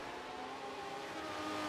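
Race cars in a DBD9 GT Spec sim racing series rev and drone together, a steady, faint engine whine with layered tones from several cars and no talk.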